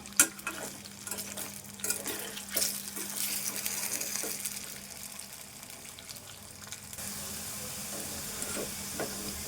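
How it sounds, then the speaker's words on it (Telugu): Potatoes fry in a pan on low heat until golden, giving a soft continuous sizzle with occasional stirring scrapes and clinks. "ఫ్రై చేసుకోవాలి. గోల్డ్ కలర్ వచ్చేదాకా వేపుకోవాలి."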